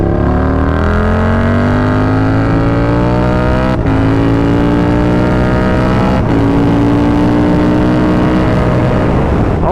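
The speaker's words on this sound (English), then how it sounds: "So enjoy the sounds of this bike" A KTM 1290 Super Duke R riding in track mode, its big twin engine loud and close, rising through the revs with two quick gear changes and a final roll-off, no voices.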